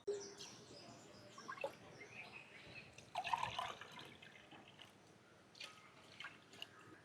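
Water is poured from a glass into a pot of rice and coconut milk, a soft trickling and dripping that stays faint and close, with a few light bird chirps in the background.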